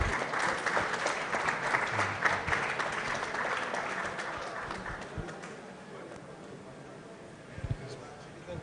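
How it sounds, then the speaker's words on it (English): Steady applause from a crowd at a business summit, loud at first and gradually thinning out, with a few scattered claps near the end. "let's give you a round of applause"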